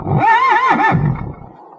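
A horse in A Vampyre Story lets out a single loud, close whinny that wavers in pitch for about a second and then fades away.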